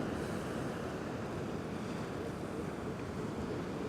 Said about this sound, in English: Some big waves coming, so I'm a bit scared.